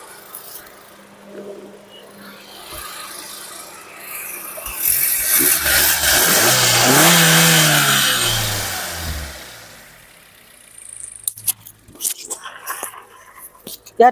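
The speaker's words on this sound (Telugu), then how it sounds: "నార్మల్ లో ఉన్నప్పుడు ఇంజన్ సౌండ్ ఇది, అదే థ్రోటల్ ఇస్తే ఇంజన్ సౌండ్ మీరు గమనించండి" A Maruti Suzuki Swift ZXI with its 1200cc petrol engine idles, then revs up to a loud broad surge around the middle before settling back, with some clicks and handling noise afterward.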